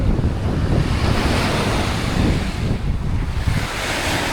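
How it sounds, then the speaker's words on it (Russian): Strong wind roars and buffets the microphone in a steady, loud rush, with the deep wash of surf breaking underneath on a coast of the Russian Far North. No voices. "Дуло ветром."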